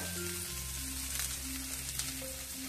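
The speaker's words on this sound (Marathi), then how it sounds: "वाटाणे आपले भाजतायत" Green peas roasting in a pan while making matar kachori, a steady close sizzle and crackle running throughout with no talk.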